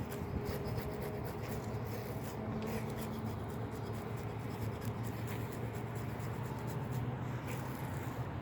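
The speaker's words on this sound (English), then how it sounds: "rub pretty firmly over the back." Firm rubbing and scraping across the scales of a brown trout, a continuous coarse rasping close to the mic with steady strokes and no talking.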